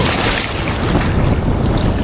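Black Sea surf at a wild beach in Pomorie, Bulgaria: a loud, continuous roar of breaking waves with rushing water and wind buffeting the microphone, heard up close from within the waves.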